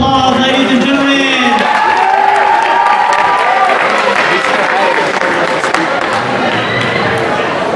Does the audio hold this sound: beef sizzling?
no